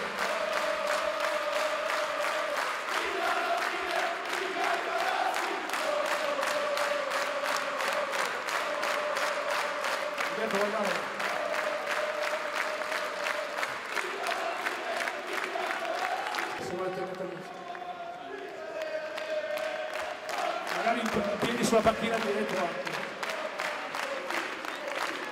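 A crowd claps in a steady rhythm for a long stretch at a basketball team presentation in Forlì, mixed with voices and singing, with cheering swelling now and then.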